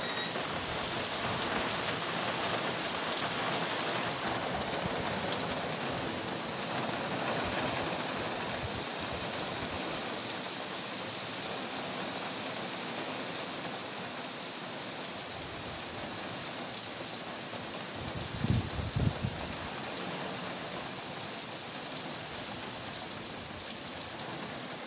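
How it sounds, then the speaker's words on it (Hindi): Heavy morning rain pours down in a steady, dense hiss that fills the whole stretch, with a brief low thud near the end and no one talking. "सुबह मॉर्निंग टाइम में मौसलाधार बारिश हुई"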